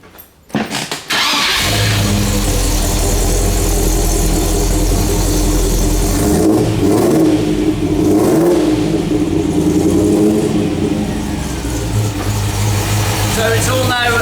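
A Land Rover Defender 90 with a freshly fitted engine cranks, fires up and settles into a loud idle, then revs up and back down through its exhaust in a workshop before returning to a steady idle.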